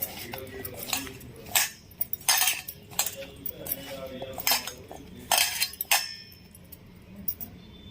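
Mango pieces for avakaya pickle are mixed with salt, chili powder and mustard powder in a bowl, with irregular clinks and scrapes of a spoon against the dish, each stroke close and clear, with no talk.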